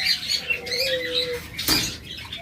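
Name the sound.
pair of lutino lovebirds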